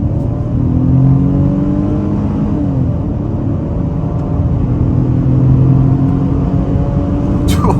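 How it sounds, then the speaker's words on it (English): A 2023 Ford Bronco Sport Big Bend accelerates steadily in second gear in normal mode, a continuous rising hum and rumble heard from inside the cabin, with no talking. "we'll try an acceleration in normal mode, 2nd gear on the gas"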